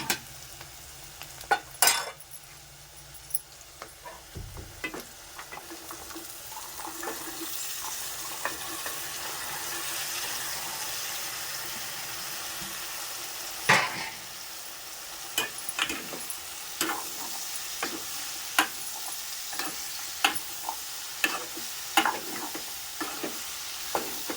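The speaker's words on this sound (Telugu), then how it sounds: "ఇప్పుడైతే చిక్కుడుకాయలు వేస్తాను" Broad beans sizzling steadily in a hot pan in a village kitchen, with scattered clinks and scrapes of a spoon stirring, close and moderately quiet.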